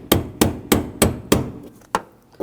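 Hammer striking a brass punch to tighten the fuel pump lock ring on a 2007-2013 BMW 328i, six sharp metallic taps in a steady rhythm, close and alone.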